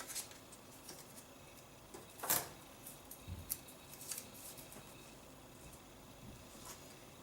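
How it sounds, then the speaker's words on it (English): Scissors cut through silver glitter vinyl for a custom text cheer bow, trimming the end of a rolled-out length: one crisp close snip stands out amid faint rustling and light ticks, with no talking. "So I will just roll it out to the length I need and then trim the end."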